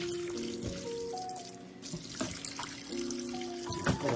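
Chitterlings being rinsed under a running faucet in a kitchen sink: a steady stream of tap water splashing and gurgling, with clunks and knocks of handling the meat in the basin.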